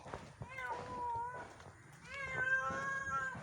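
A cat meows twice in long, drawn-out, wavering cries, close and clear, with a short pause between them.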